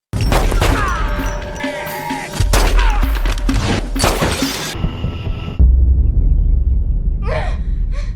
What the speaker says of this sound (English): the gunfire begins, with both parties shooting at each other